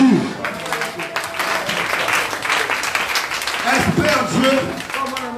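Church congregation clapping together in steady applause during a worship service, with voices and cheering mixed into the sustained claps.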